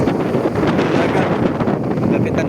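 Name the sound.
strong habagat wind at sea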